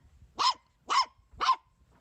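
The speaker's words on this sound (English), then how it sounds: "it's a puppy barking." A puppy barks three times in a steady, evenly spaced rhythm, each bark sharp and fairly close, with quiet gaps between and no talking.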